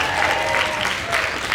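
Middle school students clapping in a brief burst of applause at a school prize day, a dense crowd sound filling a hall, with a voice faintly under it.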